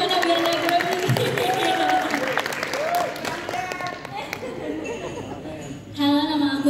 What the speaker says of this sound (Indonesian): Tepuk tangan dulu dong buat Ivana biar nggak grogi.